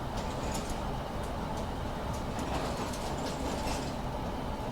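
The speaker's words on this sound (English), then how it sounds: "Lovely, lovely sounds of the train." A Metropolitan Line S8 Stock train runs along the track in Train Simulator 2021, giving a steady rumbling drone with faint rhythmic clacks throughout, heard alone.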